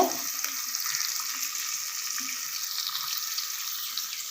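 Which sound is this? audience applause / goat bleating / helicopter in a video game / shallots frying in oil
shallots frying in oil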